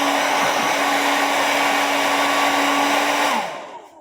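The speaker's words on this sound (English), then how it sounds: "My hair dryer can fit inside that hole. And I turn it on and I dry my parts off." A hair dryer blows steadily into a plastic ice cream bucket to dry mantle clock parts, a loud constant whir with a steady tone that winds down as it switches off near the end.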